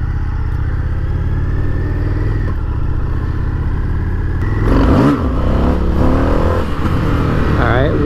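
Indian FTR 1200 motorcycle accelerating hard, a loud, close engine note rising and swelling sharply midway over continuous wind noise, with a rider speaking in between.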